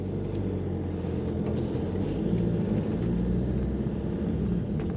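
A Volvo S40 Mk2 with a PSA diesel engine pulls away in drive, giving a steady, loud low engine drone and road rumble heard from inside the cabin, with no talking.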